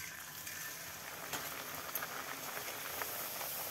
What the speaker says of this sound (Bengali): কড়াইয়ে দিয়েছি সয়াবিন তেল, তেল গরম হয়ে গেছে। এখন লুচি ভেজে নিব।